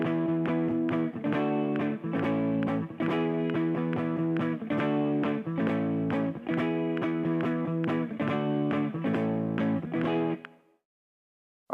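An electric guitar strums chunky heavy-rock bar chords in a steady driving rhythm, loud and slightly overdriven, then the last chord cuts off into silence.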